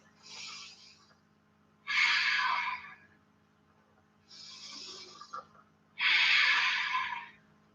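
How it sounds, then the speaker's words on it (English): Slow deep breathing during a restorative yoga class, with four long airy breaths alternating between softer inhales and louder, fuller exhales, close and quiet, with no talking. "Take 3 more deep breaths."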